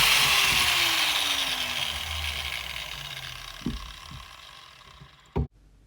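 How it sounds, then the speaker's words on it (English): Two 5-inch angle grinders, a Mastercraft and a Makita, whine at high pitch as they spin down from loud to fainter, with a few sharp clunks and a final knock near the end. "the difference between the two grinders, the way they sound"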